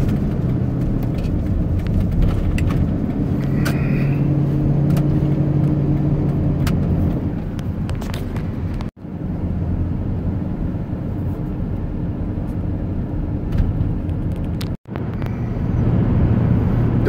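Car interior on a country drive out toward Nambe, a steady loud road rumble and tire roar with engine drone that holds throughout, broken by two brief sharp dropouts.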